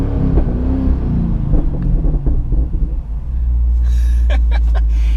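A 2014 Camaro ZL1 with a Borla exhaust idles with a deep, loud rumble and a brief rev, followed by a few sharp crackling pops near the end.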